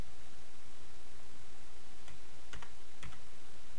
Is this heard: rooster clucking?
no